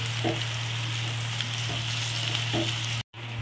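Green chillies sizzle steadily in oil in a pan for chow mein, a dense continuous frying hiss with a few soft stirring scrapes, then a brief cut to silence near the end before the sizzle resumes.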